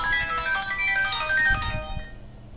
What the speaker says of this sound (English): excuse me while I turn my phone off